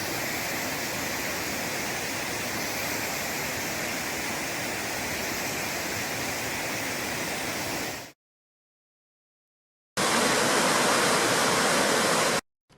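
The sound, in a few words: Bond Falls waterfall in winter, Michigan Upper Peninsula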